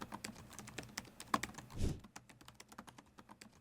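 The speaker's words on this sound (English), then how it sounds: "The sound of the keys is very similar on the Pro versus the Slim as well." Rapid, steady typing on a Lenovo Legion laptop keyboard, close and crisp individual key clicks in an uneven run, with a brief soft rustle partway through and no talking.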